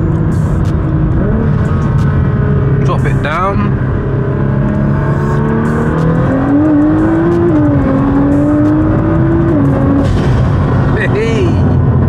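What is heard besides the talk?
tuned sports car engine accelerating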